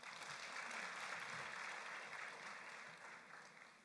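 A graduation crowd at IUM claps steadily, a broad, even wash of applause that holds near full strength and eases slightly toward the end.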